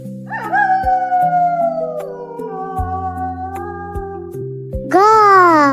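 A jackal gives a short, loud, close howl at the end of a light melodic music tune.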